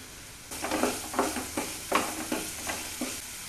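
Chopped amaranth stems frying with popped mustard seeds in a pan, a low steady sizzle broken by a series of rhythmic stirring scrapes about every half second, close up and without speech.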